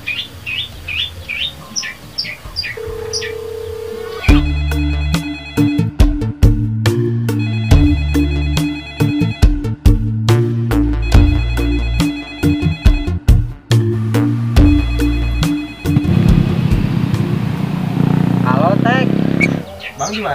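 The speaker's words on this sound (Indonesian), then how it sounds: "Telepon si Babang." An electronic phone ringtone plays a repeating melodic pattern, loud and near, with faint birdsong before it starts.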